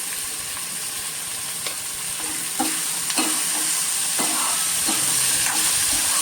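Peas, carrot, onion and potato are sautéed in a pan, with a constant close sizzle broken by frequent sharp scrapes and clacks of a stirring spoon in an uneven rhythm, and no voices.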